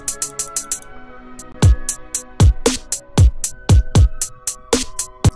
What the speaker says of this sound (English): So I grabbed this generic trap hat once again.